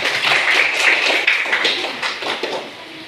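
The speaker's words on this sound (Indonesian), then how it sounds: "Ya, silakan tepuk tangan." An audience applauding after a school teaching-practice lesson, steady dense hand clapping throughout at moderate loudness, with no talk over it.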